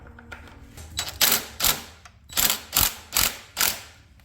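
Metallic ratcheting as a pedal pivot nut and bolt are loosened on a KTM motorcycle: about six distinct close, loud clicking bursts in an uneven rhythm, each a quick run of pawl clicks.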